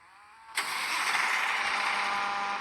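In the Drive World video game, a truck engine starts with a sudden loud crank after brief quiet, then settles straight into a steady, even idle that continues to the end.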